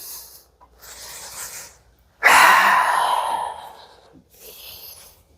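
A person lets out a long, deep breath lasting about two seconds during a back treatment, preceded by softer breathing and followed by a brief quieter exhale, close and clear.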